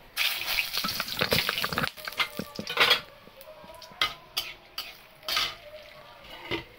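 Cloves, cardamom and bay leaf drop into hot oil for a Bengali goat-head curry: a brief burst of sizzle and clattering pan contact, then sparse scrapes and clinks against a quiet background.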